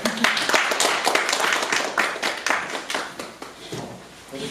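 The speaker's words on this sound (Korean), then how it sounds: "네, 큰 박수 부탁드리겠습니다" An audience at a lecture breaks into sustained applause, dense overlapping clapping that stays loud and then tapers slightly toward the end.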